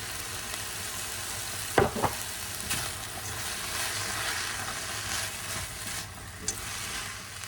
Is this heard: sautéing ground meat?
yes